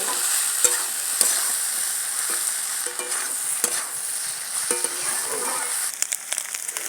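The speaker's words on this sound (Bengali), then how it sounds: "এইভাবে আমি চিংড়িটাকে ভালো করে আলুর সাথে একদম সুন্দর করে ভেজে নেব।" Shrimp and potatoes fry in a wok under a constant bright sizzle, while a spatula scrapes and knocks against the metal in repeated irregular strokes, up close and with no talk.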